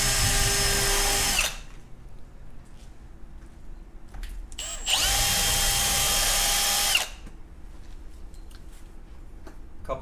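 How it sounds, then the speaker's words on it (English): Power drill cutting pilot holes while installing a galvanized pipe handrail, heard as two loud bursts of steady whine separated by a quiet pause with faint clicks. "gonna drill a couple more pilot holes here"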